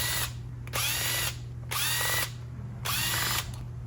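A power tool whirs in three short bursts, close and loud, as it backs out the carburetor float bowl screws on a Kawasaki Brute Force 750, with brief quiet pauses between bursts.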